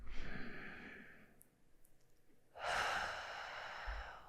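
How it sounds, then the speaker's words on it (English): A slow, deep breath in and out taken together with a guide: a long airy exhale, a brief quiet pause with faint nasal sniffs, then a fuller breathy inhale, close and soft with no speech. "Let's take a breath together."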